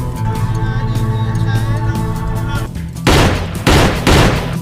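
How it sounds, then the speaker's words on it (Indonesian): Gunfire in a Nigerian gangster film set in Lagos, a few loud, heavy shots ringing out near the end after a stretch of dramatic music. "Kajem lah yang meninggoy ditembak oleh Gipti"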